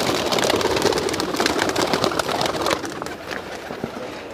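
Pigeons fluttering and cooing in a crowded pet shop, a dense close mix of soft coos, wing flaps and clattering bustle that drops a little in level partway through.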